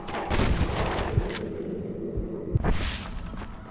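Sniper gunfire cracks during an outlaw gang shootout in Red Dead Redemption, a dense clatter of shots with two louder booming reports close by, heard over loud game noise and shouting.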